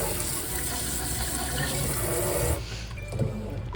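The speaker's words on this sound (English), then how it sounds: "now I'm just going to turn on the hot water and rinse the drains out." Hot water gushes from a kitchen faucet into sink drains, a loud steady rushing stream close by that cuts off abruptly, leaving a quieter room with faint clinks.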